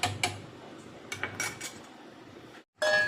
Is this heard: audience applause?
no